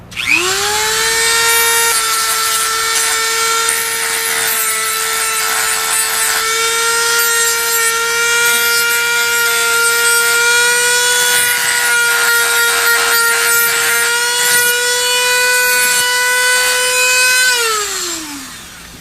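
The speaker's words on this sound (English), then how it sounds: "The sanding drum on the Dremel does a really good job." A high-pitched Dremel rotary tool whines steadily for about seventeen seconds, with scratchy grinding bursts as its sanding drum roughens pistol grips, then spins down at the end.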